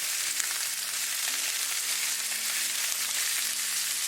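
Salmon fillets frying in a non-stick skillet with salt and pepper, giving a constant close, bright crackling sizzle with faint pops and no speech.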